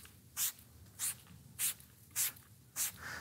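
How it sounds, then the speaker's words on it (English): Five or six short, quiet hissing spray bursts of protectant onto a convertible car's window at a steady rhythm, each a quick puff of mist, with a soft wipe at the end. "so I spray on the window"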